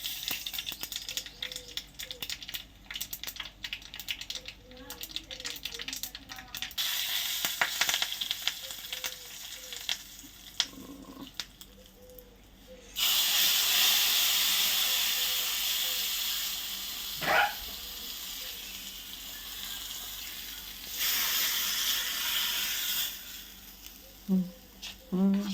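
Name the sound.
mustard, cumin, asafoetida, dried chillies sizzling in oil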